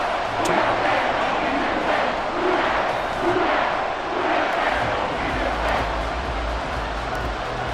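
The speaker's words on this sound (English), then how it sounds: "This crowd alive again." A stadium crowd in Madden 24 roars and cheers in a continuous, dense swell that stays loud throughout, with faint commentary voices mixed in.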